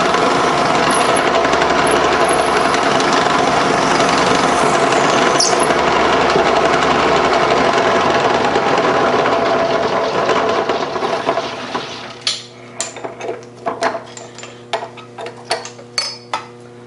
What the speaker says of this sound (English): we're just going to go and drill and tap all the way through